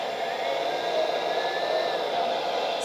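A steady, whirring electric hum with a faint whine rising and falling slightly, the hydraulic pump of a 1/14 scale LESU ZX490 RC excavator running continuously.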